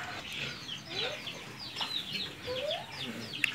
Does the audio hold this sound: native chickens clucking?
yes